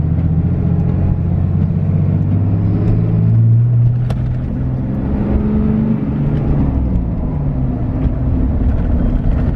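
A Ram pickup truck with a new clutch accelerates in third gear while building turbo boost, its engine giving a loud, steady droning rumble that rises gradually from the cabin, with no talking.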